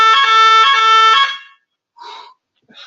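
A fire-alarm-style electronic tone sounds loudly in a conference presentation room, beeping in rapid pulses for about a second and a half before cutting off. Brief faint voice fragments follow.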